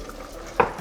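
A chicken breast lowered into hot oil for chicken parm gives a sudden loud sizzle burst partway through, then a softer continuing fry over quiet kitchen background.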